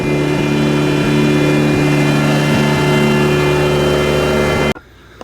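The rotary engine of a Mazda FC3S RX7 Turbo II idles loud and close with a steady droning hum and slight rhythmic pulses, then cuts off abruptly near the end.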